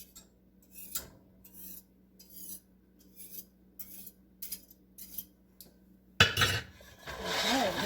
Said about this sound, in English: I'll use this whisk to keep it smoothed out.